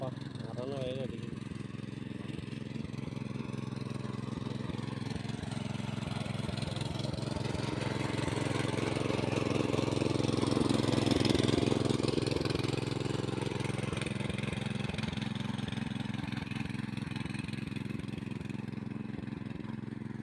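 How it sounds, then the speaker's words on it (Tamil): Small tractor engine chugging steadily while plowing a sugarcane field in hot sun, a continuous mid-pitched drone that swells slightly in the middle, with people talking over it throughout. "நாங்களே குட்டி டிராக்டரை வச்சு நாங்களே உழுந்துட்டுருக்குறோங்க"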